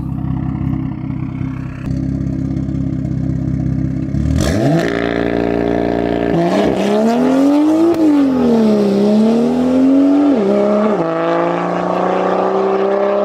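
A loud BMW M2 with an MHD Stage 2+ tune and performance exhaust idles with a deep burble, then revs hard and launches, the exhaust roaring and rising in pitch through the gears.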